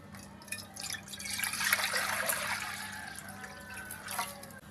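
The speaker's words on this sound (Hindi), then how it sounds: "अब कढ़ाई में पानी डाल देंगे।" Water being poured into a kadhai (wok) while cooking masoor dal kadhi, a steady splashing trickle that swells and then tapers off, with no voices.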